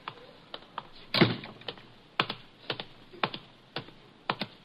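Staged footsteps crossing thick hotel carpet as a radio sound effect: about a dozen soft, evenly spaced thuds, fairly close, with one heavier scuff near the start and no talking.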